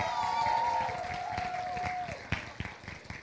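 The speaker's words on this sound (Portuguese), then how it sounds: "uma grande salva de palmas para vocês" Audience applause at the KCAP 2024 event, a sustained wash of clapping from a crowd that thins toward the end into scattered individual claps, with a faint tonal hum fading out partway through.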